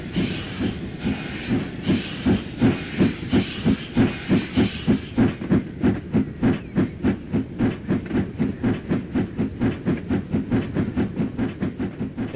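Steam locomotive SDJR 7F in Train Simulator on the West Somerset Railway, chuffing in a loud, steady exhaust beat with hissing steam, the rapid rhythmic puffs running evenly throughout and no talk.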